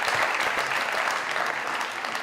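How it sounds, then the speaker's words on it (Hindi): A studio audience on a comedy talk show gives a short burst of steady, lively applause. "जोरदार ताली, जोरदार।"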